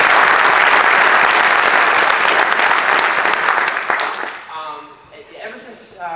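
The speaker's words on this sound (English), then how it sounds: "So another big round of applause for all these." Loud, full applause and cheering from a concert audience for a high school jazz band, a thick crowd roar that fades out after about four seconds into quieter murmurs and a voice.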